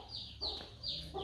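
Chickens cluck indoors in a home, a few short sharp clucks in quick succession, close and fairly loud, with no talk over them.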